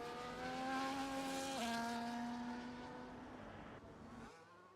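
Formula 1 race cars from F1 24 at the Belgium round scream past with high, steady engine whines that dip in pitch as they go by, loud and close before fading away.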